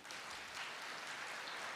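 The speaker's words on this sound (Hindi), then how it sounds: "ताली तो बजाओ अपने लिए।" An audience claps during a spiritual class, a soft, steady patter of many hands that continues evenly for under two seconds and sounds fairly distant and faint.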